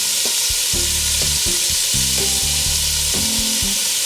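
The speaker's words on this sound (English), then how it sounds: "Add your beef in batches to get a nice brown on it." Soy-marinated beef chunks browning in a hot pan, a loud continuous sizzle with intermittent low scraping and stirring strokes beneath it.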